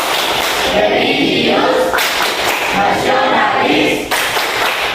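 A classroom of students doing the tepuk PPK rhythmic clapping chant, loud and close, with sharp claps woven through shouted chanted words over a steady busy background.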